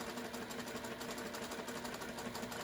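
A sewing machine runs steadily while stitching quilt half-square triangles, a continuous fast mechanical whir with a low motor hum, faint and close, with no pauses or voices.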